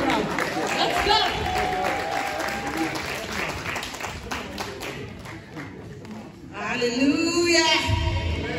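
A crowd at a ceremony claps steadily and loudly, the applause mixing with voices and background music, swelling again toward the end.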